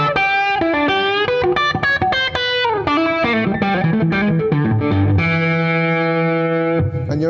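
Electric guitar on the middle pickup of a G&L Tribute Will Ray, a Strat-like tone with mild distortion: a fast bluesy run of bent notes that settles into a long sustained chord, loud and close.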